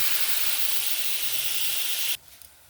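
Loud, steady sizzling hiss as water hits spice paste of ground coriander, garam masala and a pinch of sugar frying in a pan, then cuts off abruptly near the end. No talking.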